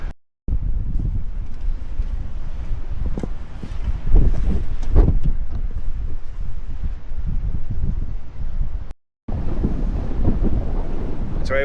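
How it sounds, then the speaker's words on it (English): Strong, steady wind roars and buffets the microphone at a rugged coastal lighthouse, with gusts rising and falling and one short cut in the sound. "It's very windy."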